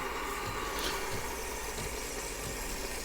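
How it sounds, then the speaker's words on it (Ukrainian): A DeLonghi coffee machine frothing milk, a steady loud hissing and whooshing of steam with a low mechanical hum underneath, continuous and close throughout. "Запускаємо пінення молока. Пішло пінення."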